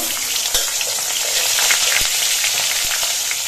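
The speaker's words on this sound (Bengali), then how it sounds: "এবার তেলের মধ্যে দিয়ে আমি বেগুনগুলো ভেজে নেব।" Eggplant slices fry in oil in a wok with a loud, dense sizzle, broken by a few sharp clicks of a utensil against the pan.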